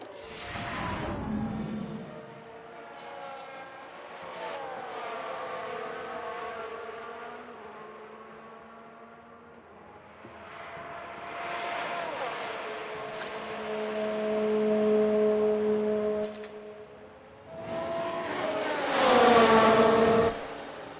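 Formula One cars in the F1 Manager 22 video game racing by in a replay, engine whines swelling and fading in several passes, moderately loud, with no talk over them.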